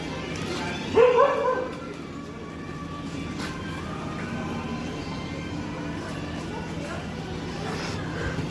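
A street dog gives a short bark and whimpering yips near the start, followed by a long stretch of low background noise as a person talks.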